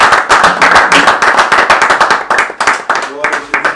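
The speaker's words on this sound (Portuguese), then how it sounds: "Você pode aplaudir Jesus por isso." A church congregation claps during a Portuguese Bible study gathering, with loud, regular rhythmic claps at about four or five per second and voices faintly mixed in near the end.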